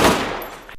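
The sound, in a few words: gunshots in a movie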